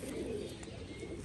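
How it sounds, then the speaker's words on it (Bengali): A female pigeon gives a short, quiet coo, low and muffled against faint room noise, lasting only a moment. "এর হচ্ছে মাদি পায়রা।"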